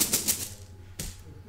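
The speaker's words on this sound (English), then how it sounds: "shuffle it up" Wooden cubes for a board game are shaken and clattered inside a cloth bag, a short burst of rattling clicks at the start, then a single sharper knock about a second in, close and fairly quiet.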